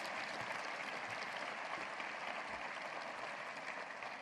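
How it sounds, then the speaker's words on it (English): A large audience at a university address applauds EVMS colleagues, a broad, continuous wash of clapping heard from a distance, steady and even throughout. "Let's give them another big round of applause."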